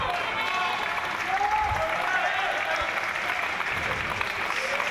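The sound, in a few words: Great Britain crowd applauding and encouraging a table tennis player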